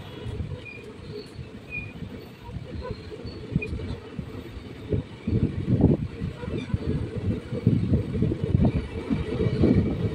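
A passenger train on the Katwa–Ahmadpur line pulls out of Komarpur station, its low, steady rumble of wheels and carriages close by and growing louder and busier about halfway through.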